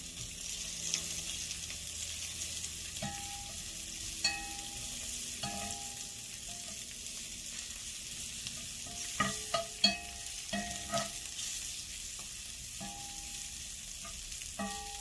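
Sun-dried tomatoes sizzle gently in oil in a pan for Keto Tuscan chicken, a quiet steady fry with scattered spoon scrapes and taps, clustering near the end.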